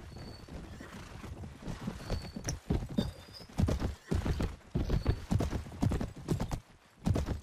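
Horse hooves clip-clop steadily in the video game Mount & Blade Warband, a loud rhythmic trot of repeated impacts with a brief whinny near the start, heard alone without voices.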